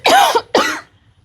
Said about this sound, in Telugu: స్వల్ప దగ్గు